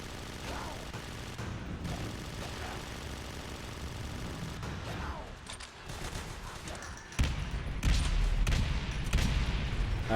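Rapid gunfire rattles through a competitive video game match, with bursts of shots under excited commentary that grow into a louder, denser volley near the end.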